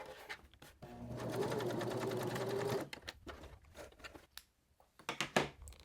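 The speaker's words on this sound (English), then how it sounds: "I'm going to cross that stitching just a little bit and back stitch." Sewing machine backstitching across existing stitching on a fabric journal cover, a steady close motor buzz running for about two seconds before stopping, followed by quieter handling clicks and rustles.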